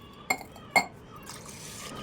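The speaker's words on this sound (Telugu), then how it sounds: "4 గ్లాసెస్ వాటర్ పోసేసాం" Water pours from a glass into a pot of basmati rice, with two sharp clinks of glass and then a soft, close splashing trickle.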